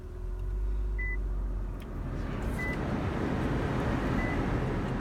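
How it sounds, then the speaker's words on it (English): A 2019 Infiniti QX50 idles with a low, steady engine rumble after starting, heard from inside the cabin, with a few faint electronic chimes sounding over the hum. "I'm going to go ahead and start the car."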